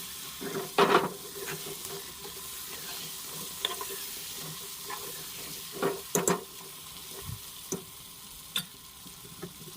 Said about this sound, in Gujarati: સરસ રીતે એકદમ મિક્સ કરી લેવાનું છે આપણે.